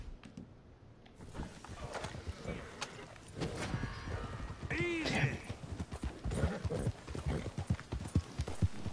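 Steady clip-clop of horse hooves at a brisk gait in the video game Red Dead Redemption 2, with a whinny partway through and a voice speaking over the galloping.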